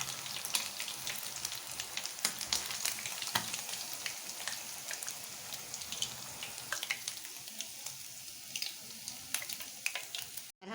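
Fish frying in hot oil for a Lahori masala fish fry: a continuous close crackling sizzle with scattered sharp pops, easing slightly near the end as pieces are lifted out, no voices.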